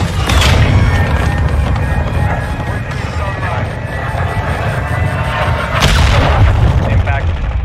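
Heavy booming artillery impacts from the Call of Duty: Modern Warfare 2 video game, loud and close, rumbling across the whole stretch with a fresh blast near the end; a voice talks over it.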